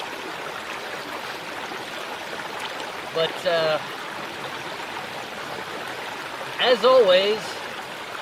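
Babbling brook flowing outdoors, a steady close trickling wash of water throughout, with someone briefly speaking over it twice.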